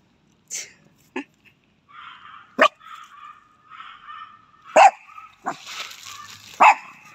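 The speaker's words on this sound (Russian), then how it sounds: "то плохая собака какая-то гавкает" A dog barks in short sharp bursts, several loud yaps spread across the moment, while someone speaks softly in between.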